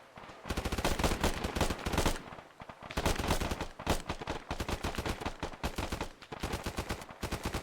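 Gunfire in a military shooter video game: long bursts of rapid automatic fire, loud and close, in several sustained volleys separated by brief gaps.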